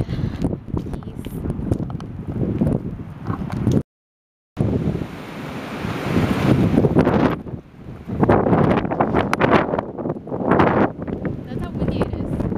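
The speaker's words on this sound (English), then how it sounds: "That's how windy it is." Strong wind buffets a microphone outdoors on a clear, windy day in Japan, a loud continuous roar that rises and falls with one brief dropout, while someone speaks intermittently over it.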